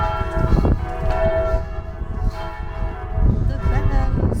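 Church bells ring loudly at a castle near a medieval festival in Domfront, their overlapping metallic peals sounding continuously with a booming low rumble and faint voices underneath.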